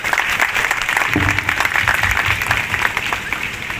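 Audience applause welcoming foreign guests at an event inaugurating a women's help desk in Vrindavan, a steady dense patter of many hands clapping throughout, fairly loud with no break.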